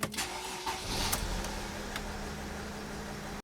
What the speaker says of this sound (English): So now let's start the engine.